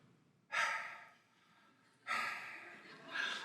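A voice imitates the heavy breathing of a silent phone caller: two slow, loud, close breaths, each a rushing exhale that trails off, the second one longer.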